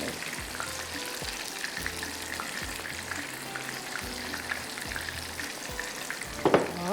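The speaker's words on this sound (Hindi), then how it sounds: "जब तक कबाब फ्राई हो रहे हैं" Chicken kebabs fry in a pan with a continuous, close sizzle, with soft intermittent thumps, stirring scrapes and a louder clatter near the end.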